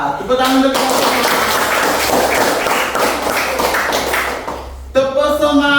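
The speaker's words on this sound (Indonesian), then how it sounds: "tepuk tangan untuk kita semua" Classroom of elementary school pupils clapping their hands together for themselves, a dense, sustained burst of many hands close by, with brief voices at the start and end.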